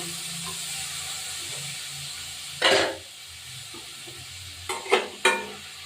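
Potatoes frying in oil in a pan, a soft steady sizzle broken by one loud hiss when the potatoes go in and two more sharp sizzling bursts as they are stirred.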